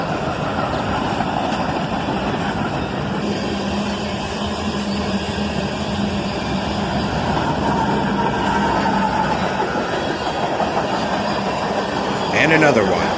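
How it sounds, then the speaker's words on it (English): A single ES-44 ACH diesel locomotive hauls a mixed manifest freight train past, giving a steady engine rumble and rolling rail noise throughout, with a brief sharper burst near the end. "A single ES-44 ACH brings this manifest in."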